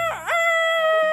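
A person's voice imitating a rooster's cock-a-doodle-doo, a short, loud, nasal crowing call with a rising and falling warble that ends in a held tone.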